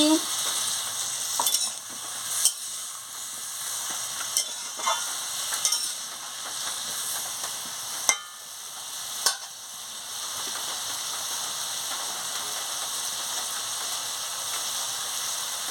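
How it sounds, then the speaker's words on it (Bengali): Spiced raw pumpkin and shrimp curry being stirred in a pan, a steady bright sizzle of frying with occasional sharp scrapes and clinks of the spoon against the pan, close and continuous, no talking. "দিয়ে ভালো করে নাড়িয়ে নিচ্ছি।"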